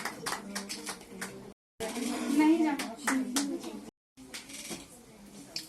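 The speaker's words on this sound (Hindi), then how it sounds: "प्लीज जोरदार क्लैपिंग मैम प्लीज, प्लीज जोरदार क्लैपिंग।" An audience claps at the NSWO Saksham Nari award ceremony in Chandigarh, giving a rapid patter of many hands under a loud voice speaking over a microphone, broken by two brief dropouts.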